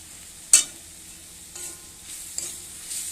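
A spice masala with dried chilli powder cooks in goat fat with a soft, low sizzle, punctuated by one sharp spatula clink and a few quieter scrapes.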